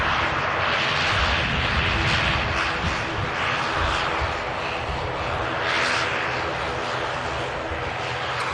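An Emerald Airlines ATR turboprop at Manchester Airport drones with a continuous propeller and engine rumble, fairly loud and steady with slight swells in intensity, and no talk.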